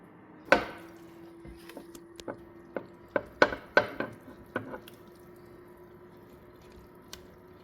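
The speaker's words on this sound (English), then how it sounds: "we're going to transfer it to our greased 9 by 13 inch" Ground turkey casserole mixture is moved into a greased 9 by 13 inch baking dish, with scattered sharp utensil taps and soft wet plops against a quiet background and no talk.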